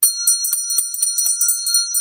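A small decorative Christmas 2001 bell topped by a detailed little soldier, shaken so it rings quickly and steadily with bright, high tinkling strokes, close and clear, with no voices.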